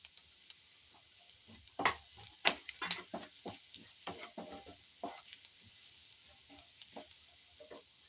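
Ginger hits hot oil already crackling with cumin seeds for an okra buttermilk curry, giving a steady close sizzle broken by sharp spoon-scrapes and stirring clatters, with no voices.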